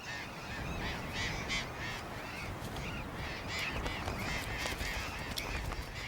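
A huge colony of around 70,000 parrots calls at once, a dense wall of harsh squawks and screeches layered over constant chatter, steady and loud with no single bird standing out.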